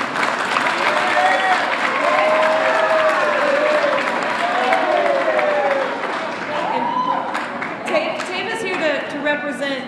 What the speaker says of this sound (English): You guys want to give him that same round of applause.